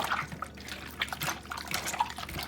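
Vinegar poured over pork intestines to wash them, a close, wet splashing and dripping with small squelches as the liquid runs over the meat.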